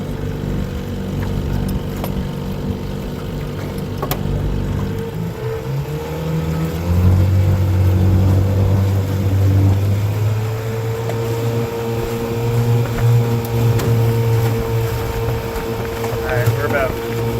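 Outboard motor on a small aluminum boat at part throttle, a steady mechanical hum whose pitch shifts and settles lower midway, heard close with wind noise and occasional speech-like sounds over it.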